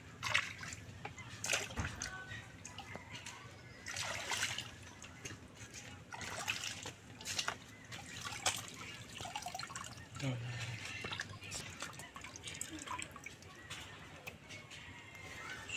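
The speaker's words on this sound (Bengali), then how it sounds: "কুড়ুকগুলো খুব ভালো করে আমি ধুয়ে পরিষ্কার করে নেব" Mushrooms are washed by hand in water, with soft splashing, trickling and dripping in quiet, irregular bursts and faint handling noise.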